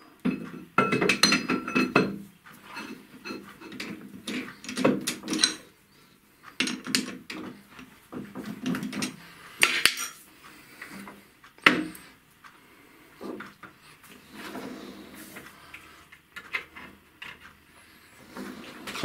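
Metal lathe chuck being loosened and a workpiece turned over, with a fixed steady nearby: several close clinks and knocks of metal parts come in bursts with short pauses between them, and no talking.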